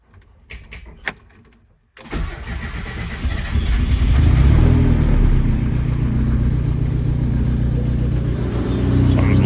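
A car fitted with a homemade 3-inch oval exhaust cranks and fires after a short burst of key and cabin noise, then settles into a loud, steady, deep engine rumble that swells slightly near the end.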